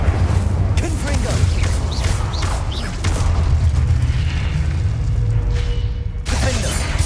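Confringo blasting spell explosions in the video game Hogwarts Legacy, a loud run of booming blasts and crackling bursts with game effects layered throughout.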